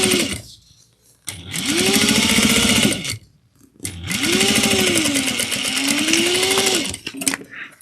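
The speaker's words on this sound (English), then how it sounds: "We'll top stitch it in place." Sewing machine top stitching the cuff of a mini holiday stocking, two loud sustained whirring runs separated by brief pauses, close up, with no talking.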